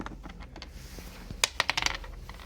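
Three dice rolled in a tabletop game, a quick cluster of sharp clattering clicks and taps, close and fairly faint, after a few softer knocks.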